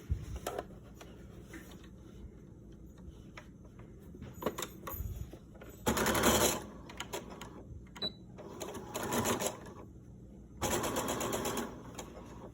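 A sewing machine stitches fabric for a chicken-shaped grocery bag holder in three short runs separated by quiet handling clicks and rustles.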